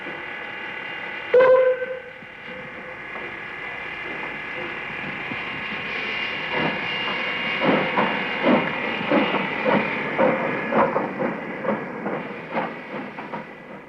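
A steam locomotive stands at a heritage railway station, giving a steady loud hiss with a brief sharp burst early on, then a rhythm of rattling clanks building over the continuous steam, fairly near.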